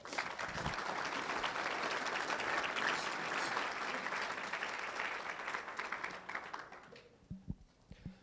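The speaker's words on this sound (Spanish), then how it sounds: "Dele un aplauso al Señor." Church congregation applauding during a Spanish-language sermon, a dense, loud wash of clapping for about seven seconds that thins out and fades near the end, leaving a few scattered claps.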